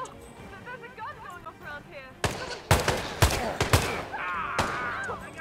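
Several sharp gunshots in the Hitman 2 video game ring out in a quick, uneven cluster, with people talking before and during the shots.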